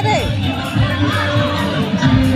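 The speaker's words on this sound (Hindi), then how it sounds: "यहाँ पे कितना भीड़ है देखा" A dense crowd murmurs and chatters at a Hindu goddess temple with dandiya festivities, a continuous, close hubbub of many voices with scattered shouts, tones and a person talking over it.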